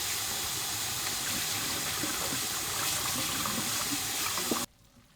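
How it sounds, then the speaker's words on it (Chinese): Tap water runs steadily over blanched shredded radish in a kitchen, a continuous close rushing splash that cuts off abruptly just before the end, with no talking. "在水龙头底下冲凉。"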